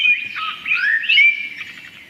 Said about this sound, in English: this bird, what you can hear now